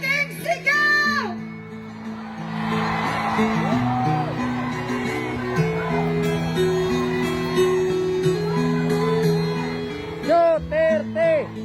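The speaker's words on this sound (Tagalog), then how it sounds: "Isang malaking sigaw!" A large crowd at a political rally in Davao shouts and cheers with sustained voices and whoops, and a louder burst of rhythmic chanting rises at the end.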